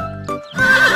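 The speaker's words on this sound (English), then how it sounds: "Horse, hurry up." A cartoon horse gives a loud, close whinny with a rising then falling pitch, followed by a brighter, bustling stretch of cartoon sound effects, in a children's animated show about vehicles and a train carrying farm animals.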